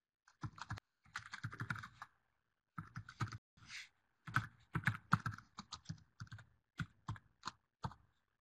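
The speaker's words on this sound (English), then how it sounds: "Definitely see some folks are typing." Fingers typing on a computer keyboard in uneven bursts of crisp clicking keystrokes, close and fairly quiet, with short pauses between runs and no talk.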